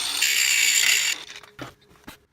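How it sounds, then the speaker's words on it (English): An angle grinder cuts into a steel bolt handle still attached to the bar, a loud close high-pitched grind lasting about a second before cutting off, followed by a few scattered knocks and scrapes that fade into quiet. "I'm using the angle grinder, hacking away, trying to get as much of the meat off as possible"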